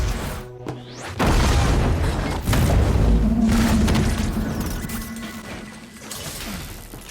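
A deep boom bursts out in a building explosion in the animated series Arcane, then a second heavy blast, followed by a long rolling rumble that slowly fades.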